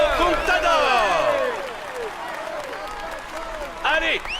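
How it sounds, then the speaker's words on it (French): Crowd applause at the Tour de France podium ceremony, steady clapping heard under a loud voice that dominates, with the clapping swelling briefly near the end. "Allez, on l'applaudit bien fort."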